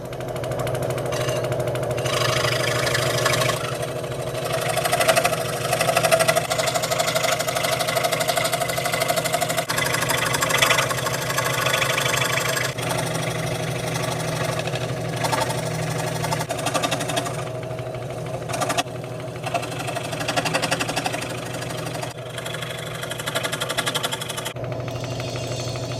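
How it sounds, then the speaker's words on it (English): A grinder steadily cuts out part of a bollard timber for a model of HMS Thorn, a loud close continuous whine and hum that holds for the whole stretch with slight surges as it bites. "I'm going to do this on the grinder, so I'm actually just going to cut the part out"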